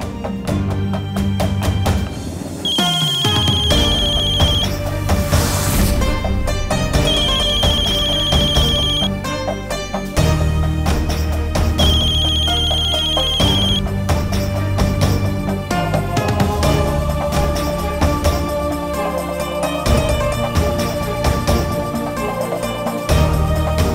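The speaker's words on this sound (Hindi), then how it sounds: "फोन उठा और बताओ उसे" A telephone rings over and over in repeated bursts, its electronic tone loud and steady over background music.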